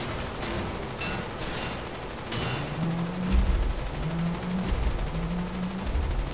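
Bursts of gunfire from Wolfenstein: The New Order rattle in quick volleys, moderately loud, alongside repeated low electronic hums and thumping impacts.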